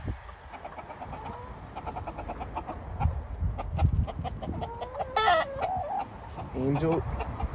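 Chickens cluck and squawk at close range while pecking at and fighting over a dead mouse, with busy overlapping calls, sharper squawks near the middle and a rising burst of clucking toward the end.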